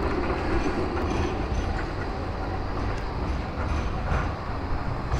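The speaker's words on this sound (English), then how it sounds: "Well, there's my first tram" A Blackpool tram rumbles past nearby, a steady broadband roll of wheels on rails that holds at an even level for several seconds.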